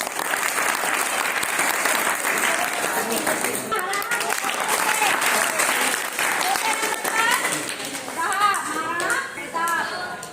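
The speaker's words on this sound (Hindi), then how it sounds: "सुभाष चंद्र बोस के लिए एक बार जोरदार तालियां।" Schoolchildren give a student a sustained burst of loud applause that fills the room, with young voices and chatter rising through the clapping.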